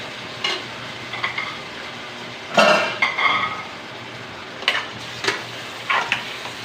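Menudo sautéing in a pan, a steady low sizzle under intermittent scraping and clinking of a utensil stirring against the metal, a few sharp strokes spaced irregularly and one louder scrape in the middle.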